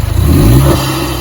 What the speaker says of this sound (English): There's a new Roche open air intake port in front, which sounds very nice. The air induction noise,